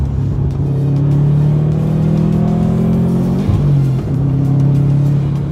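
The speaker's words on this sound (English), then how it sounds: "you just can't beat the four-banger Subaru Rumble" A Subaru WRX hatchback's 2.4-liter turbocharged four-cylinder boxer engine rumbles loud and close, a steady deep throb that dips and climbs briefly as the revs shift.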